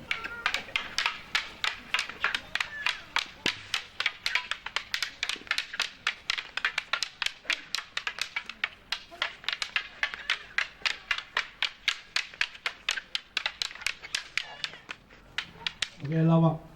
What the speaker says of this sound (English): Like the banging of sticks.